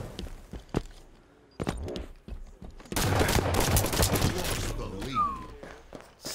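Gunfire in a multiplayer shooter video game with a hostile sniper, starting as scattered sharp cracks and turning into a loud sustained burst of shots and impacts over faint game sound, with brief talk.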